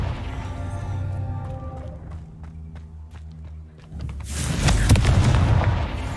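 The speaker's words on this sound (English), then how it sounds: "Nice to have a long-range fire spell, you know?" A Confringo fire spell in the video game Hogwarts Legacy goes off as a loud, broad blast and rumble, following a few lighter thuds and footstep-like taps, with no speech over it.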